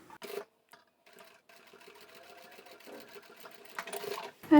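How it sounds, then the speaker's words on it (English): A sewing machine back stitches and then runs a seam across a fabric storage basket, a steady close-up whir with brief pauses and a louder burst near the end. "I'll start at the outside edge with a back stitch and just stitch to the middle there"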